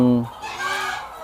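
A chicken gives a short, loud cluck in a clean, well-kept chicken coop, followed by a softer, breathy trailing call, all within about a second.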